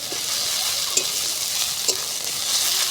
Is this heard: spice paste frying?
yes